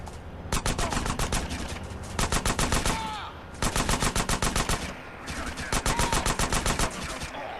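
Gunfire in Grand Theft Auto: San Andreas: loud, rapid bursts of automatic fire in three long stretches, separated by short pauses, with faint game sounds between the bursts.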